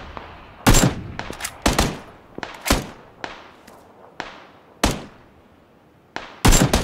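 Rapid bursts of gunfire ring out during a video game shootout on a bridge, loud sharp shots in irregular clusters with echoing tails, some near and some more distant, with no talk over them.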